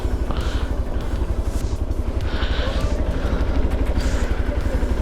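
A motorcycle starts an off-road ride from Pang in Ladakh, high in the Himalayas. Its engine thrums steadily and loudly throughout, with a low, pulsing rumble and some rattle over rough ground.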